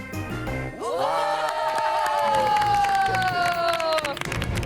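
An audience at a charity dinner cheers and claps for jugglers, a burst of crowd noise under a rising, sustained musical tone, with a voice speaking over it.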